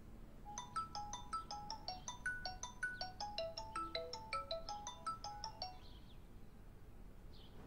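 A phone ringtone plays a bright, repeating electronic melody of quick chiming notes for several seconds, then stops. Steady low room hum sits beneath it and no one speaks.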